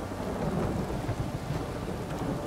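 A thunderstorm in The Witcher 3 on PC: steady heavy rain hisses throughout with low rumbling thunder underneath, no voices.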